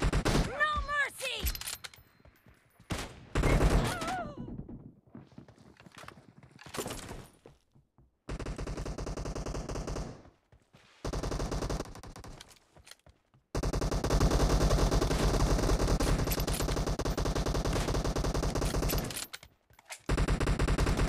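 Rapid automatic gunfire bursts in PUBG Mobile, loud and close, with dense sustained stretches of firing broken by short gaps, plus a brief voice at the start.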